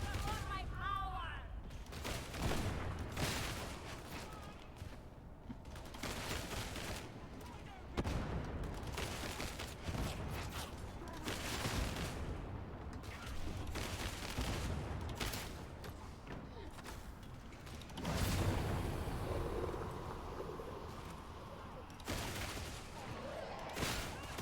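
Rapid bursts of gunfire rattle through a Warhammer 40K Darktide co-op match, volleys of shots and booms recurring throughout amid chaotic game noise, with a player talking over the action at times.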